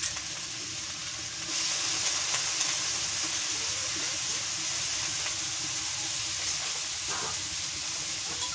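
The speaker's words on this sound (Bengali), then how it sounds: "এখন মাছ দিয়ে দিই," Fish sizzles in hot oil in a pan with already-fried onions and green chillies, a loud continuous crackling hiss that swells as the fish goes in, with faint stirring scrapes and no talking.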